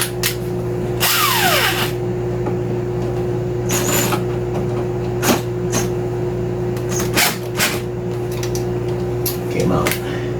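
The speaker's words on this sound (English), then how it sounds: "Get my drill." A power drill drives stiff screws on circuit breakers inside an electrical panel while a 20-amp single-pole circuit is being wired, giving short whirring bursts over a steady background hum.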